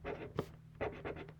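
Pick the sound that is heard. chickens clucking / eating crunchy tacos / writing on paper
writing on paper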